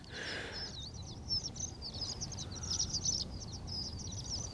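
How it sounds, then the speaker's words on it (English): Outdoors, a bird gives a quick series of high, thin chirps that repeat through the whole stretch, faint and at a distance over a soft background hiss. "What'd that bird say?"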